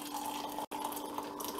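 Warm water runs from a tap as glass jars are rinsed out, a steady close gush with a brief break, no voices over it.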